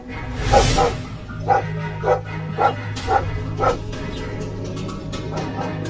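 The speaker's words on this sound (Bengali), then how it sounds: "এই কুকুরের আওয়াজ আসছে কোথা থেকে? আওয়াজটা তো আমাদের দিকে এগিয়ে আসছে মনে হচ্ছে।" Cartoon dog barks, a burst of several yips followed by a steady series of separate barks over a low music bed, fairly close and loud, with no talking.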